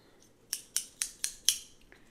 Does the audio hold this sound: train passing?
no